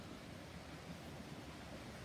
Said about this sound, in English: That beautiful creek sound.